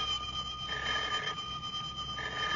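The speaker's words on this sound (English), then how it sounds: "a feller can't sit down for 5 minutes without that dad-blamed telephone ringing" An old-fashioned telephone bell rings steadily in a rural comedy scene, a moderately loud, sustained ringing with no talk over it.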